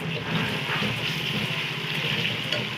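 Water pours steadily into a cooking pan of chicken and potato curry, a continuous rushing, gurgling wash that stays at an even level throughout.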